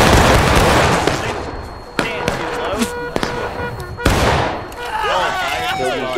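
Musket volleys from the video game War of Rights: a loud, sustained crackle of massed gunfire, then sharp single reports and a second burst, with a voice speaking briefly.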